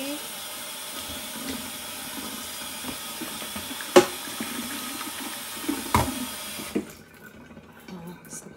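Water spinach leaves washed under a running kitchen tap: steady splashing water flow with a few sharp knocks, ending in quieter dripping as the tap stops.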